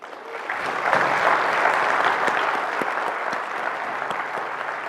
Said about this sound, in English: Please give Dave Martin a round of applause.